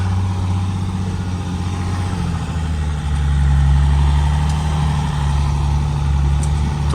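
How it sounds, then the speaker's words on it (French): A vehicle engine idles steadily with a low, continuous rumble, close and loud, swelling slightly midway as it is adjusted. "Tourne bien, je vais bien régler le moteur."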